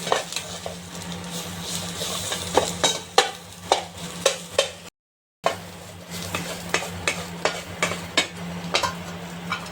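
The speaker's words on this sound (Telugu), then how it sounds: "నేతిని వేసుకొని మనము కూరబెట్టుకున్న బియ్యాన్ని అనేది దీంట్లో వేసి బాగా వేపుకోవాలి ఫ్రెండ్స్" Soaked rice roasting in ghee while being stirred, a steady sizzle broken by regular scraping and clinking strokes of the spoon against the pan, close and alone, with a brief silent gap midway.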